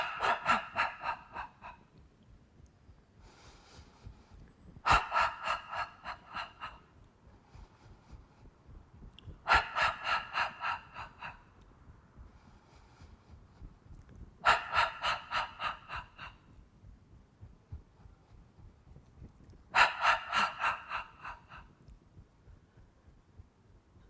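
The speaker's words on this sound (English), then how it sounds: "So we breathe in, and then just let it out." Slow, deep breathing during tai chi practice, with about five long inhale-and-exhale cycles spaced roughly five seconds apart, close and clear against a quiet background.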